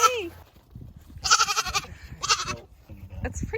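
Goats give several loud, harsh bleats in quick succession, close by, mixed with rustling and background voices talking.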